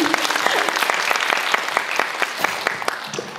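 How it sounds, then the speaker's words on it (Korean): Audience at a film screening Q&A with director and cast claps steadily, a warm round of dense applause with some sharper individual claps standing out, holding level for a few seconds. "두 분의 대답에도 박수 좀 쳐주세요"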